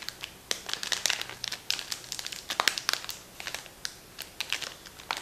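A mystery box of vintage trading cards being peeled open, with dense crinkling and tearing of packaging in quick irregular bursts, close and fairly quiet, no voices.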